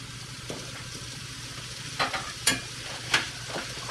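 Onions fry in a hot pan with a steady, close sizzle, broken by a few sharp scraping bursts as the pan is shaken and stirred, with no talking.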